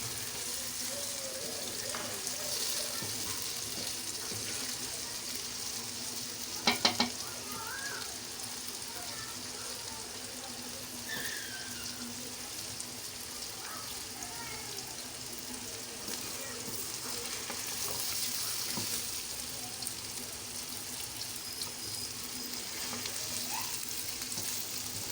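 Okra (bhindi) frying in a pan, a steady close sizzle that runs throughout, with a brief clink near the start and occasional soft stirring sounds.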